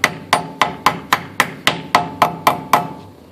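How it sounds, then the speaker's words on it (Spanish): A hammer strikes a brake part on a Toyota Tacoma during a pad and rotor replacement, about eleven sharp metallic blows in an even, steady rhythm, close and loud with no talking. "Entonces ahora es con esto, con un martillo."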